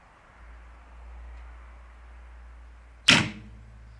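Barebow recurve bow with a Mybo Mykan riser releases an arrow: a quiet, steady room tone, then one sharp, close, loud thwack of the shot that decays quickly.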